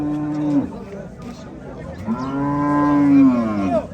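A cow lowing at a busy livestock market, two long drawn-out moos close by, the second longer and louder, with faint market chatter behind.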